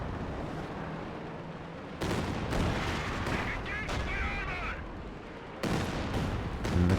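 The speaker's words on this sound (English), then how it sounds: "Barrage being used though, but not killing anything." An artillery barrage in the Company of Heroes 2 strategy game thunders in repeated heavy booms and rumbling impacts, layered with battle noise at a steady moderate level, with no talk over it.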